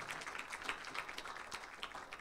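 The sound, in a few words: audience applause for speakers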